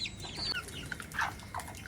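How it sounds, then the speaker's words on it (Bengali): Native hens on a monsoon-season rooftop give soft, scattered clucks and short calls while feeding, close by and moderately quiet, with no voices over them. "মুরগিগুলোকে খাবার দিয়ে দিছি।"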